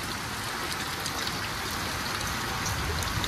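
Heavy monsoon rain pours down in Pandharpur, a dense, steady hiss of drops drumming on surfaces close by, continuous and loud with no gaps and no voices.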